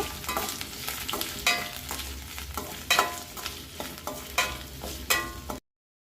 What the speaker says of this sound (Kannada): ಬಟಾಣಿ ಹಾಕಿದ ನಂತರ 1 ರಿಂದ 2 ನಿಮಿಷಗಳ ಕಾಲ ಫ್ರೈ ಮಾಡ್ಕೊಳ್ಳೋಣ